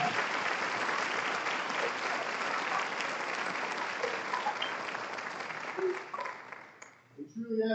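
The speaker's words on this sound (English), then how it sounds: "Let's give a round of applause for our staff." A high school awards-night audience applauds the school staff with steady, full clapping that keeps up for several seconds before thinning out near the end.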